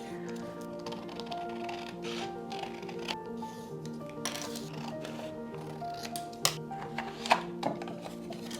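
A book page being trimmed and cut with scissors to fit a backing for wall art, quiet crisp snips and paper rustles that grow louder and sharper toward the end, over soft background music.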